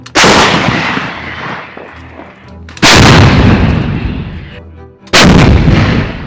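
Three heavy M777 howitzer blasts, each a sudden deafening boom followed by a long rumbling echo, spaced a couple of seconds apart.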